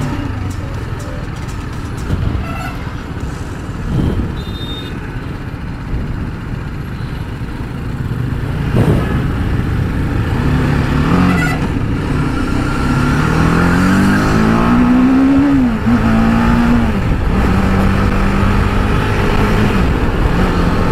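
An Apache RR310 motorcycle engine drones steadily while riding, with wind rumble and rising, falling revs as it accelerates; close and loud throughout.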